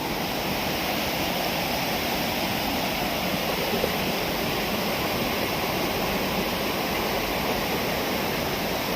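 Heavy rushing water pours over a dam in Odisha during heavy rain, a steady, loud, continuous roar with no pauses, and no voices over it.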